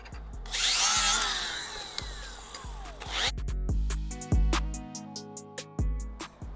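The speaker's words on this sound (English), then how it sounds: "Grinding those edges," Grinding on the frame gusset of a 1987 Honda TRX250R ATV, a power grinder whining loudly across the metal edges in two long passes, then dropping to quieter spin-down and light tool clatter.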